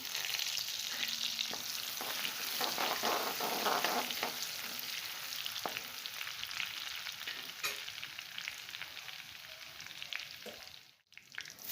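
Garlic and mustard seeds with cumin frying in hot oil for a Maharashtrian spicy brinjal curry, a steady close sizzle with faint stirring scrapes, fading slightly toward the end.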